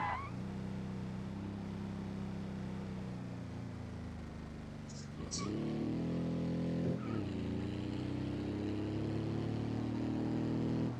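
A car engine revs hard through narrow village streets, its droning hum climbing and surging in pitch, close and continuous throughout.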